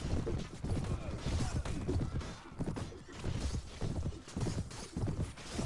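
Cavalry horses charge across the battlefield in the video game Mount and Blade, a steady drumming of many hooves with thuds and clashes, fairly faint and continuous throughout.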